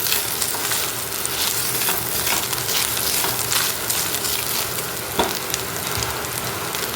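Grated coconut stir-fried in a pan gives a steady, close sizzle with scraping stirs and one sharper clack near the end, no voices.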